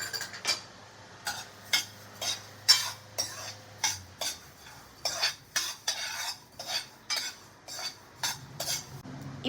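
Coriander seeds dry-roasting in a pan are stirred in a steady rhythm, each sweep giving a metallic scrape and rattle, about twenty strokes in a row, close and clear.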